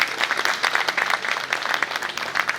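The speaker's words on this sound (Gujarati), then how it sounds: "જોરદાર તાળીઓના નાદથી આપણે વધાવી લઈએ" An audience applauds at a community honouring ceremony for elders and donors, with dense, steady clapping from many hands throughout.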